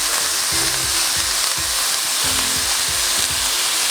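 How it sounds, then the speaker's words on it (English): 80-20 ground beef fries loudly in a hot skillet, a dense continuous sizzle with rhythmic spatula scrapes as the meat is broken up, close and prominent. "I have a hot skillet. So I'm just going to start breaking this up."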